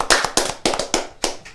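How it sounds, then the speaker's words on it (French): A handful of sharp, close claps from a small audience at a Bible quiz game event, coming in uneven bursts of two or three with short gaps between them. "Applaudissons un peu pour mettre un peu plus d'ambiance."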